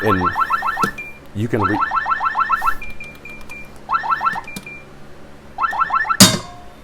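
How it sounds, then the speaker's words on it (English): A Wyze gun safe alarm sounds in repeated bursts of rapid rising electronic chirps, loud and close, broken by short pauses, with a sharp clunk near the end. "It does have the alarm"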